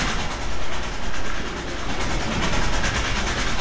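Train rumbling along in a video game, a steady loud wash of rolling noise with faint rhythmic clatter, continuous and close throughout.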